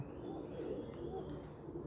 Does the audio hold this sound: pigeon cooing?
yes